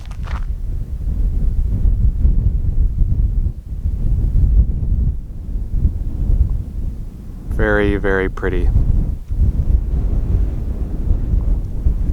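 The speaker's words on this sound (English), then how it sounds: "It's windy today," Wind gusts across the microphone at a national park viewpoint, a steady low rumble lasting throughout, with a brief spoken comment partway through.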